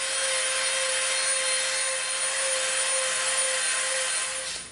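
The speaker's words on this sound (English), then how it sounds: "now we're going to get our Dremel out." Dremel rotary tool rounding over an EVA foam edge for a prop lightsaber, a loud steady high-pitched whine with a sustained tone, close and continuous, fading at the end.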